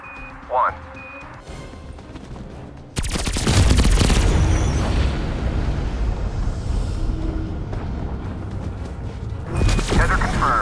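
Helicopter strike firing in Call of Duty Cold War Zombies, a sudden loud barrage of rapid gunfire and explosions that rumbles on for several seconds after a quieter stretch with a short beep and radio-style voice.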